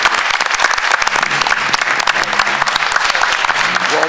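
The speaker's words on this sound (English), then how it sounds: "Let's give a big round of applause for that." A school board meeting audience breaks into loud, dense, steady applause filling the room, many hands clapping at once with no pause for the whole stretch.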